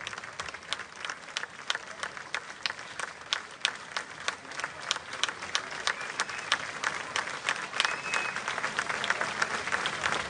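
Sustained applause from an audience at a folk music concert in Suceava, Romania, after a folk orchestra from Chișinău performs; dense, steady clapping with sharp individual claps standing out, fairly distant and unbroken for the whole stretch.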